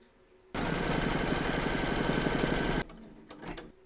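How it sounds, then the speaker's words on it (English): An embroidery machine stitches a quilt block held in a hoop, a loud, rapid, even mechanical clatter starting abruptly and running steadily for about two seconds before stopping. "Pop your hoop into your machine and stitch round number 6"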